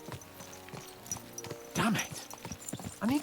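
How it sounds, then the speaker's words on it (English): Horse hooves clip-clop in a quick, uneven rhythm in Kingdom Come Deliverance 2, with a couple of short whinnies and faint voices mixed in. "Let's really spur these horses on, eh?"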